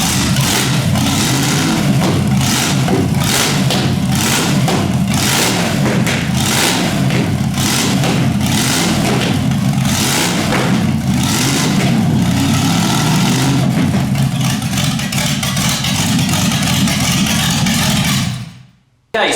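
A rebuilt 4.6-litre Rover V8 in a Mogrod revs hard and loud for nearly twenty seconds, a rough rumbling roar with repeated throttle blips close by, then it cuts off abruptly.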